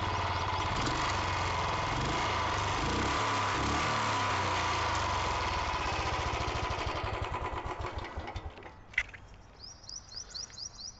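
A Royal Enfield Standard 350 BS6 motorcycle revs hard with a loud, close exhaust roar that holds for several seconds. It then drops back to a slow thumping idle, and a sharp click comes near the end.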